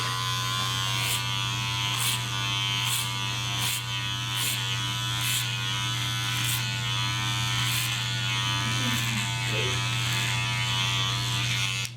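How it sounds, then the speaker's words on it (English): Electric hair clippers buzz steadily and close up while cutting a flat top on a mannequin, a constant drone with faint periodic clicks from the comb. "If you want to get good at clipper over comb, one of the best ways you can do it is by practicing your flat tops."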